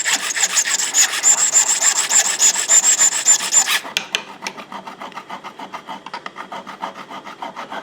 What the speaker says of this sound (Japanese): こっち側とあと反対側をヤスリで削ります